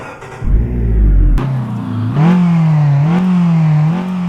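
A car engine in Euro Truck Simulator 2, a modded Tofaş car, cranks and starts from neutral, then revs up and settles into a loud, rising and falling roar, close and alone.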